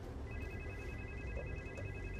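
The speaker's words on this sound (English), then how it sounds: "That's the phone." A video game telephone rings steadily with a thin electronic warble, heard faintly over a low background hum without speech.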